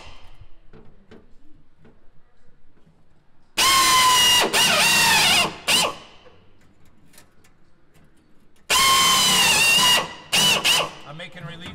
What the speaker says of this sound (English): I'm making relief holes so I can get the blade in.